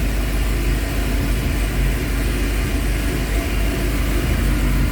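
Supercharged 2014 Chevrolet Camaro ZL1 idling with the hood open, a steady low rumble with an even, smooth rhythm, close to the microphone and without talk.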